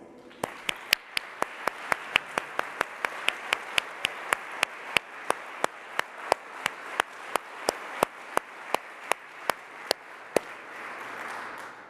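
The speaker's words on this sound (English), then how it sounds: "So a round of applause for all of the transition and teams and stakeholders." An audience at a technology competition awards ceremony claps steadily, with sharp distinct hand claps standing out above a continuous wash of applause from a crowd in a large hall for about twelve seconds.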